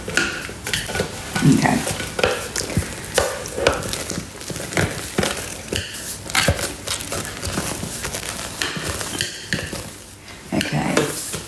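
A honeycomb mixture being stirred in a Thermomix makes repeated close scraping and knocking sounds, uneven and fairly loud, with a brief spoken word near the end.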